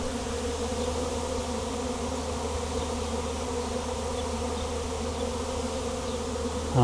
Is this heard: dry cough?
no